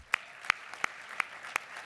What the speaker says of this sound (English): I think that they all deserve another round of applause.